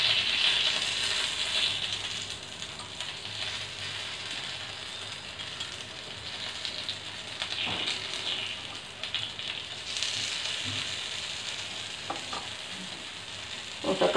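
Moong dal ponganalu cook in a pan with a continuous, fairly quiet sizzle and bubbling, broken by occasional soft scrapes and clicks, with no voices.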